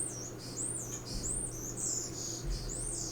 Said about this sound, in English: Ooh, a very noisy bird has started up.